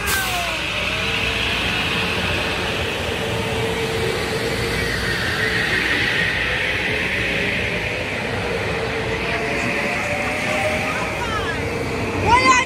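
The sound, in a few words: Metro-North train passing in Fairfield, Connecticut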